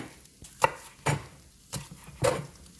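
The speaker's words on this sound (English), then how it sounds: "the last thing to do is chop up our spring onions" A knife chops spring onions thinly at an angle on a board, with four distinct, well-spaced chops sounding close and crisp, with no talking.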